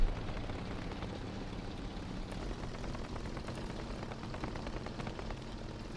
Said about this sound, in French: Les canons de 23 mm qui vont sûrement découper le Yak 4.